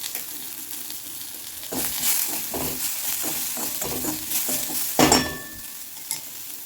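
Onion and garlic frying in a pan: soft sizzling with repeated scraping stirs and a sharp clink of a utensil near the end, no talking.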